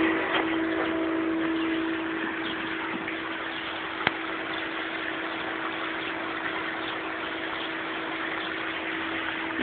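A Hayward Ecostar pool pump turning at low speed, around 1,000 RPM, gives off a steady, even hum and whir of water moving through it. The sound stays constant and close from start to finish, with a single faint tick partway through and no talking.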